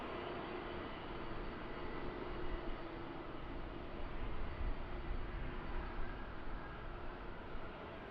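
Finnair A330 airliner at Amsterdam Schiphol Airport, a steady broadband engine roar held at a constant, fairly distant level for the whole stretch with slight swells, no voices over it.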